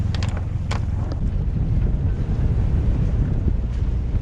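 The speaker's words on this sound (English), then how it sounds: "Windy!" Steady wind buffeting the microphone with a low roar on a sailboat off Martinique, a few faint splashes and rattles on top, continuous throughout.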